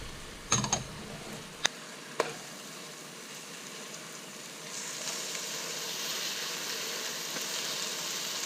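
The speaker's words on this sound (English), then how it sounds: "now put in the catfish." Catfish pieces for a Vietnamese-style caramelized braise drop into a hot pan with a few sharp clicks, then a steady sizzle builds and carries on alone at moderate loudness.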